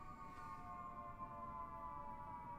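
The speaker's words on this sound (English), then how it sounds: "Please also excuse the sirens." Faint, steady siren tones from outside are heard from indoors, holding a sustained multi-tone wail for the whole moment.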